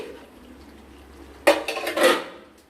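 Lid lifted off a cooking pan in a fish recipe, a sudden metallic clank followed by a brief rattling scrape after a quiet stretch, near and fairly loud.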